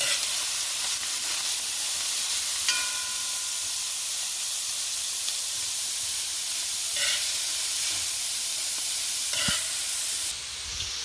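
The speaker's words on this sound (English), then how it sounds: "You have to let the carrots fry for a bit so you'll know it" Carrots and onion frying in a pan give a steady, soft hiss and sizzle. It runs at an even level, with a few brief clinks and stirring sounds and no talking.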